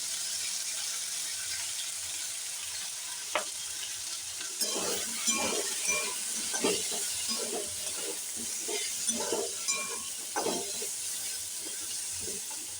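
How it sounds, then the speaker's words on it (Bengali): Potatoes fry in a pan with a soft, steady sizzle; from about midway, repeated scraping stirs and clinks come through at a quiet, close level. "তো প্রায় আলু ভাজা হয়ে গেছে"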